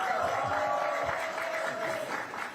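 Audience applause at a political rally in Yeonggwang, South Jeolla, a steady wash of clapping from a crowd that holds evenly throughout with no pauses.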